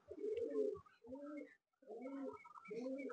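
A Malwai pigeon coos close by in soft, throaty, rolling phrases, two bursts separated by a brief pause, fairly faint overall.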